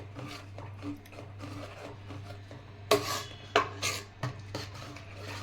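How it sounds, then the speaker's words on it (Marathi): A spoon drags and scrapes through thick finger millet papad dough in a pan over a low flame: soft rubbing strokes, then several louder scraping pushes near the end, close and without talk. "बारीक ह्याच्यावर असं पाच मिनिट हलवायचं"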